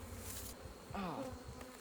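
A strong honeybee colony buzzes steadily and close during a hive inspection, a dense continuous drone with one bee swelling louder as it passes near.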